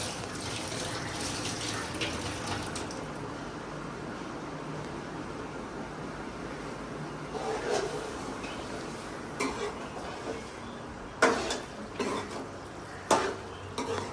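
Tap water runs steadily into a sink while coriander is washed by hand, with soft splashing and a few louder clatters and rinsing bursts toward the end.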